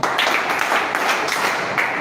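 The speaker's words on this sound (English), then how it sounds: "Give him 4 claps" Audience in a live gathering clapping steadily and continuously, a dense wash of many hands at close range with no speech.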